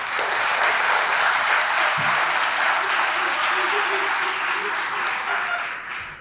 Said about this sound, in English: So, quick round of applause.